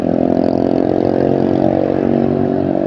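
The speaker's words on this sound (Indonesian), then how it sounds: "Sorry ada knalpot ceprek kata bang." A motorcycle with a loud aftermarket exhaust passes close by in traffic, a loud, raspy engine roar that stays steady and dominant across the few seconds.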